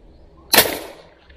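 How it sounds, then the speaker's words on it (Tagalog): A single sharp report from a hunting gun, the first shot taken, cracks loudly and close, then trails off in a short fading tail over a quiet outdoor background. "Tamaan, unang putok."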